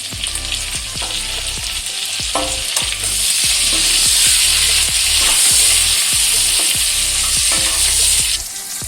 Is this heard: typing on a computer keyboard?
no